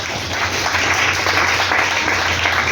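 A church congregation applauds in praise during a worship service, a dense, sustained wash of clapping from many hands, loud and continuous throughout.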